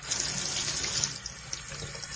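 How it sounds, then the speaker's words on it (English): Water gushes steadily from a sink faucet fitted with an aerator at good pressure, a loud continuous hiss heard up close with no talk over it. "you actually turn it on, you got good water pressure like this one is"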